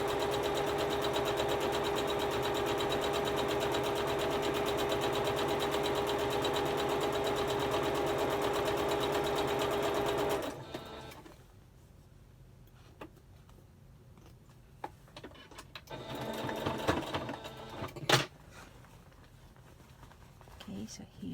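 A sewing machine runs a single continuous seam down a pleated fabric face mask, a steady, close, rapid mechanical whir lasting about ten seconds before it stops. Quiet handling and soft clicks follow.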